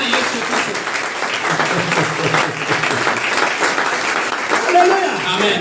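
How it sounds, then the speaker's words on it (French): Crowd applause at a lively Togolese church revival service, a dense steady wash of clapping and cheering that holds for several seconds, with voices mixed into the noise. "Acclamons pour Jésus."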